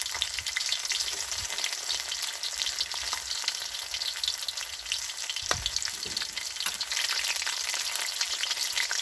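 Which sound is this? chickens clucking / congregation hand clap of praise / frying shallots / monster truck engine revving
frying shallots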